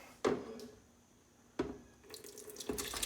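Butternut squash soup is poured into a container in a kitchen, with short splashing pours separated by pauses and a thicker liquid rush near the end, close and fairly quiet, with no voices.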